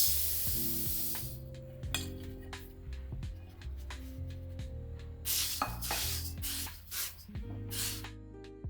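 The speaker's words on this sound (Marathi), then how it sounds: "तिळाचा भाजताना चटचट आवाज येतो" Sesame seeds roast in a kadhai on a gas stove, giving off irregular crackling and scraping bursts from stirring, all set against steady background music.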